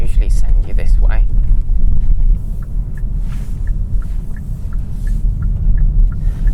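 A Kia XCeed drives over rough Belgian pavé cobbles, giving a dense, steady low rumble of tyres and road noise throughout, with a voice talking briefly at the start.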